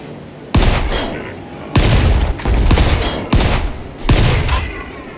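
Gunfire in the video game Volcanoids: several loud, close bursts of rapid shots in separate volleys, each cutting off abruptly with short pauses between.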